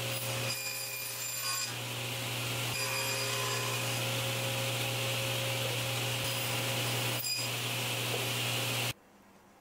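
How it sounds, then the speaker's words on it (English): A saw cuts through a 1/4 inch thick acrylic sheet with a steady, loud, continuous grinding whine that holds for about nine seconds and then stops abruptly. "Here I am cutting 1/4 inch thick acrylic to be used for the light fins."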